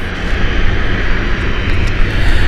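An EasyJet Airbus A320 arriving from Geneva at Gatwick Airport roars past close by, its engines producing a loud, continuous broadband rumble.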